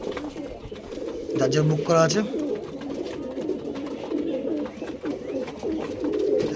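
Domestic pigeons kept as a home hobby coo in soft, repeated low calls close by, running through the clip beneath someone talking.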